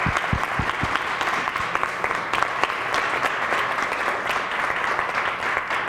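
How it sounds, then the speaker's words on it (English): Audience applause for the officials at a taekwondo poomsae competition, steady dense clapping from a large crowd throughout, fairly loud and close with a few sharp individual claps near the start. "So let's give our officials a quick round of applause."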